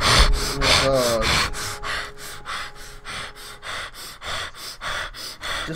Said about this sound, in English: Stop heavy breathing into the mic.